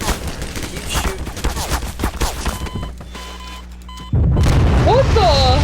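Rapid gunfire in the Garry's Mod sandbox video game, dense bursts of booming shots that give way to a humming lull before a loud burst returns, with voices talking over it.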